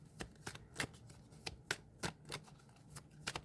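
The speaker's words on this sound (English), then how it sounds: "just give me a minute here while I shuffle the cards." Tarot cards being shuffled close up, a quick series of crisp riffling snaps at an uneven rhythm, about a dozen bursts, quiet and alone.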